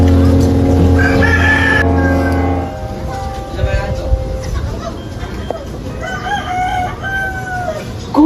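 A rooster crows loudly and close by, followed by chickens clucking, with people talking over the later part.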